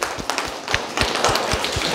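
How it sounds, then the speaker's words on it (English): Children in a classroom clap for a classmate, a brisk, fairly even run of sharp hand claps close by, with no talking over it. "Clap for Shazwa"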